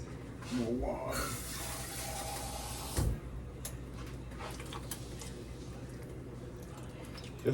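Water pours steadily into a cooking pot over peas, making a continuous splashing rush throughout, with a brief voice at the start and a sharp knock midway.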